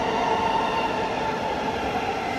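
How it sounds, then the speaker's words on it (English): Thameslink train at a London station bound for West Hampstead, a loud, steady rumbling drone of the train with constant mechanical hum and no speech. "This is one train going to West Hampstead."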